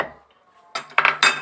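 A metal spoon clinks against a jar or container while scooping salt for a green pepper pickling brine, three quick scraping clinks in a row after a faint start, close and crisp with no talking.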